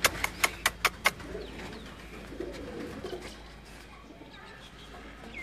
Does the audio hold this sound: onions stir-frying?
no